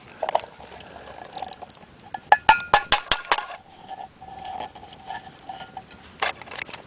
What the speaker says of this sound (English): Right, I'm now going to add the sweet corn.